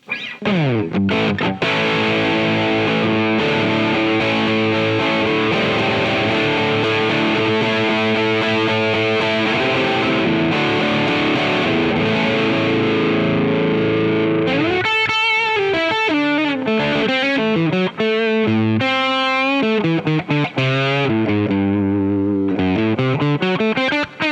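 Loud distorted Kauffmann '59 SC electric guitar on the bridge pickup, sustained chords ringing out, then choppier picked notes and bends toward the end, with no voices.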